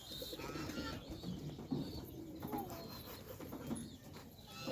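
Racing pigeons cooing at a loft, soft low coos and occasional chirps under steady outdoor background noise, moderately distant and fairly faint.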